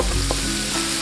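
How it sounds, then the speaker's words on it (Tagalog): Onions sauté in a hot pan with a dense, loud, continuous sizzle and a few faint stirring taps. "una nating igigisa yung ating sibuyas"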